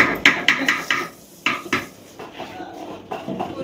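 Dough for ariselu being mixed in a metal pot, with a run of close, loud scraping clatters against the pot in uneven bursts, then softer scraping toward the end.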